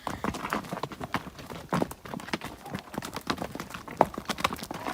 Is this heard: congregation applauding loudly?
no